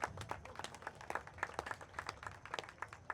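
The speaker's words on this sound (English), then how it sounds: "You can clap for that." A small crowd claps at an outdoor political speech at the Iowa State Fair, with uneven, scattered hand claps at moderate distance and fairly faint.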